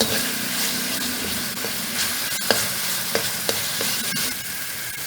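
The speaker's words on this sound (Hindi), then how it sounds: "लहसुन अदरक को हमने बहुत ज़्यादा नहीं पकाना," Garlic and ginger fry and sizzle in a pan for chicken chow mein, with a steady loud hiss broken by a few sharp scrapes and taps of a stirring utensil, and no talking.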